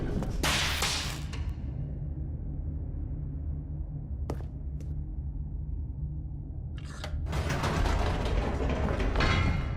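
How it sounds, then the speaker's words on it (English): An elevator in The Stanley Parable video game moves with a steady mechanical hum, set off by sharp whooshing bursts at start and end and a couple of brief clicks in between. "Stanley actually got back into the elevator and went back up."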